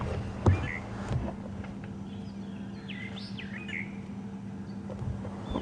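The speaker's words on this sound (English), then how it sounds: "we can hear quite a few fork-tailed drongas chirping around" Fork-tailed drongos chirp around a sunrise safari drive, their sweeping calls moderately distant over a low vehicle engine hum, with a sharp knock near the start.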